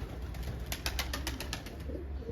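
Ankara tumbler pigeons bathing on a hot day, giving soft nearby cooing over steady background noise with a quick run of splashy flutters.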